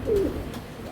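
Racing pigeons give a low, soft coo close by, a single rounded call with faint breathy rumble beneath and little else around it.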